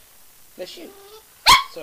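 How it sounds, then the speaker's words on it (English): Pet dogs bark indoors during a casual Minecraft recording session, one sharp loud bark standing out after softer yelps, with someone talking over them. "my dogs just started barking the second I pressed play"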